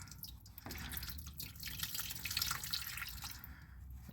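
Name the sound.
diesel fuel dripping from Gladiator fuel filter while unthreading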